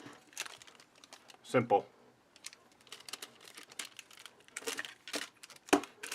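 A small piece of tape being handled at a sewing table, with soft crinkles and a couple of sharper crackles, while a person talks briefly.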